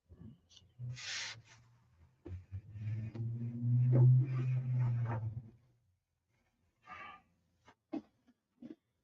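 Sandpaper of 1000 grit rubs over hardened clear-coated paint in strokes, with a long continuous rasping pass in the middle and a few short scrubs after it, close and fairly quiet.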